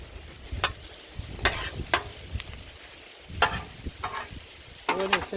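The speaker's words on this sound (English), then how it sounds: "Stirring going on." Kielbasa and cabbage sizzle on a hot griddle while a spatula stirs and scrapes in several separate bursts over a steady frying hiss, close and fairly loud, with no talking.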